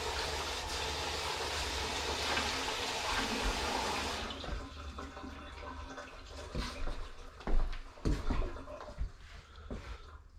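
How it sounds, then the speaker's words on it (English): Running water from a tap splashes steadily over hands being washed in a home kitchen while cooking hamburger steak, then cuts off, leaving a few louder knocks and splashes. "And there I am, washing my hands again."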